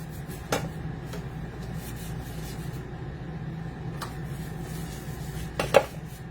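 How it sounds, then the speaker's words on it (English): A baking pan being greased inside and along the bottom for biscuits, giving soft, steady rubbing and smearing with a few light metallic clinks and taps, quiet and close, with no talking. "we're going to grease our pan."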